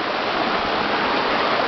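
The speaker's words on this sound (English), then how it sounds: "Nice waterfalls." Waterfall in an outdoor nature setting, a steady, dense rush of falling water roaring continuously and loudly at close range with no voices.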